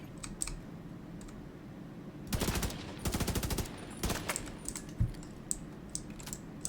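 Gunfire in The Division 2 video game: two rapid automatic bursts, close and fairly loud, then a few scattered single shots over a low background hum.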